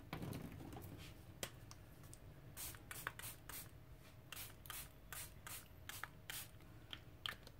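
Aerosol paint sprayed onto paper towels for an art journal page, heard as a series of short hissing bursts, some quick and clustered and others longer, close up and fairly quiet with no talking.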